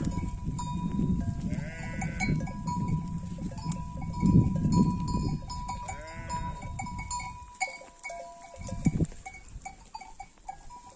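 A flock of sheep in a highland pasture eats grapes in the morning, bleating repeatedly at moderate distance over a steady rural background.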